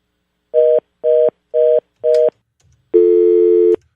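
During a failed phone call, four short identical beeps sound on a telephone line at an even pace, then after a brief gap comes one longer, lower steady tone; loud and clean, with no talking.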